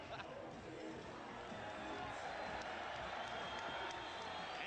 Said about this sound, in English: And the crowd cheers for Larry Holmes